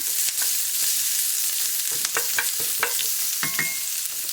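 Onions sautéing in a pan as they are stirred to coat them, a constant hiss of frying overlaid by several quick scraping and clinking strokes, clustered mostly in the second half, close and with no speech.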